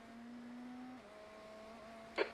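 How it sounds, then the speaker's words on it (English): A race car engine in iRacing's 24 Hours of Daytona drones at a steady pitch, then drops in tone as it passes, with a short sharp burst near the end; no talking. "There's a car approaching."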